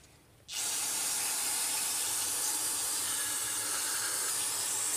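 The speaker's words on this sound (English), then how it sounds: "I'm going to spray this down a little bit" A sudden, loud, steady hiss of liquid sprayed to cool a hot part during an Apollo RFZ 125 carburetor rebuild, beginning abruptly and continuing unbroken, with a steamy sizzle.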